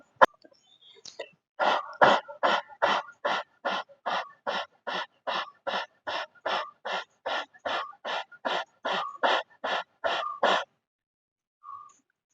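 A person imitates a dog panting as part of a breathing exercise, giving about twenty quick, evenly spaced breathy pants in a steady rhythm, close and fairly quiet, then stopping.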